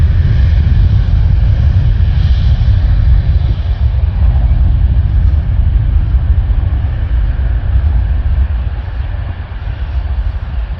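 A light aircraft starts its takeoff roll, its engine giving a loud, steady, close rumble throughout with no talk over it.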